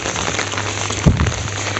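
Steady rain falls on a wet day in Entebbe, Uganda, a close, even hiss of drops with a brief louder splash near the middle.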